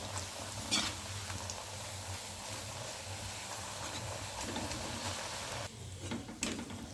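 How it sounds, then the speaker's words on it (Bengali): Green pea kachori puris fry in hot oil in a pan with a steady, moderately close crackling sizzle that runs throughout, and a few faint clinks sound alongside it. No one speaks. "প্রায় ভাজা কমপ্লিট হয়ে আসলো"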